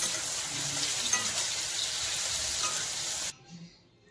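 Curry leaves sizzle and fry steadily in a hot pan while an egg masala is being cooked, a close, even crackle that cuts off abruptly near the end and leaves faint handling sounds.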